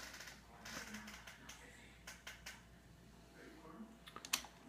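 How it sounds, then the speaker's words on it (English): Keys tapped on the computer keyboard of a homebrew Altair 8800micro clone, scattered clicks in short bursts over a quiet background hum, fairly faint. "I'll type run and we'll get started."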